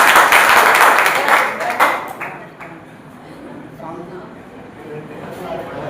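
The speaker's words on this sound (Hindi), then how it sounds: "इसके लिए थोड़ा तालियां बजाओ यार" Students in a commerce arithmetic class break into a brief burst of clapping, close and bright for about two seconds before it stops abruptly, leaving quiet room sound with faint talking.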